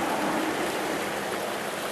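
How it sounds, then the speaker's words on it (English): A small stream, a tributary of the Connecticut River, giving a steady, close rushing flow of water with no voices. "Now this is a tributary of the Connecticut River"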